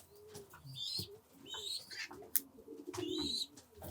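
Pigeons in a loft cooing softly nearby, several low rolling coos with a few higher chirps and a brief sharp tap, no talking.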